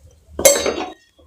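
A metal lid clinks down onto a cooking pot of simmering dal, a single close clatter with a short rattling ring that fades within half a second.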